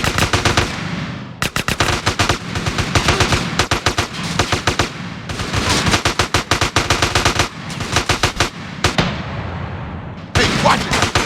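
Rapid automatic gunfire from the video game GTA San Andreas, dense bursts of loud sharp shots in long strings with brief gaps between volleys.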